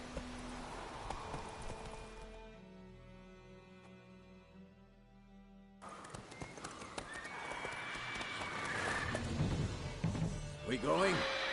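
The horse Roach from The Witcher 3 gallops, its clip-clop hoofbeats and a neigh set against game music, then a louder stretch of action noise with a shout near the end.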